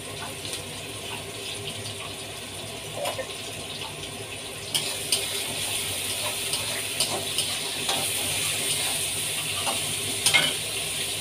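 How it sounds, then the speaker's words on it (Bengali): An egg frying in a pan gives a steady, close hissing sizzle that runs throughout, with occasional clinks and scrapes of stirring and no talking. "দেখো ডিমটা লাল লাল করে ভাজা হয়ে যাচ্ছে।"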